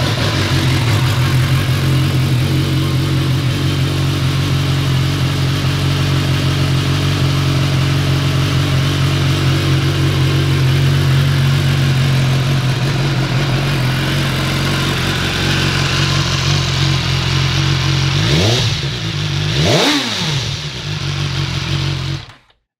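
A 2016 BMW S 1000 XR motorcycle engine idles with a loud, steady, close-up throb, then a few sharp revs rise and fall near the end before it cuts off.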